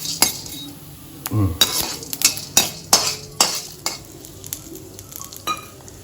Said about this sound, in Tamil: கடுகு மிளகோட சத்தம் கேட்குது பார்த்தீங்களா?